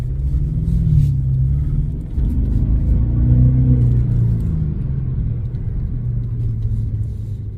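An Audi A8 with an unexplained fault drives steadily with a close, continuous low engine rumble and road drone, its pitch rising and falling slightly as it accelerates, with no clear separate metallic noise standing out.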